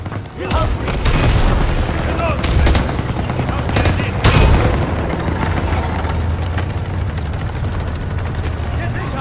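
Call of Duty WWII combat: a grenade blast and deep booming explosions tear through rapid gunfire and machine-gun bursts, loud and close, with the chaotic battle noise continuing throughout.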